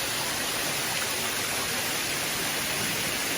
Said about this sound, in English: Tumalog waterfalls.